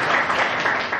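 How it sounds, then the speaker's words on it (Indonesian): A short burst of audience applause, dense clapping at even strength through the second, with a faint murmur of voices underneath. "Tepuk tangan dulu buatkan semua teman-teman"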